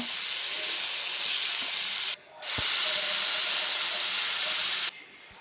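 Loud, steady hissing sizzle of onions sautéing in a pan, broken by two brief pauses where the sound drops away.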